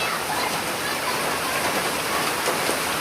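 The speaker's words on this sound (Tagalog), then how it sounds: "Ganyan araw-araw, araw-gabi ulan." Heavy rain pours down in a rural province, a dense and steady hiss of falling water that stays constant throughout with no talking.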